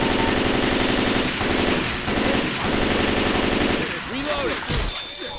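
Rapid machine-gun fire in Left 4 Dead 2 rattles in a loud, sustained burst with dense rhythmic shots, then breaks into scattered bangs and game noises near the end.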